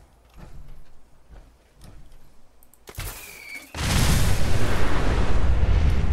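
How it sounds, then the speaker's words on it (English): A Fallout 4 MIRV Fat Man nuclear blast arrives as a sudden sharp crack followed by a huge, loud, sustained roaring rumble, preceded by a few quieter distant thuds and shuffling. "let's try this with a little bit of range between me and the explosion"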